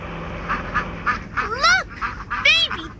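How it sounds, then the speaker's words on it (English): Baby ducks in a Dora video game, a string of cartoonish quacks repeating in quick succession, loud and close over a faint background hum. "Look! Baby ducks!"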